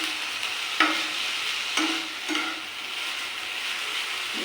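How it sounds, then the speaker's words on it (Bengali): Potatoes fry in white oil with a steady sizzle while a utensil stirs them, giving a few soft scraping clinks over the close, continuous crackle of the pan. "খুলে একটু হালকা নেড়ে দেবো"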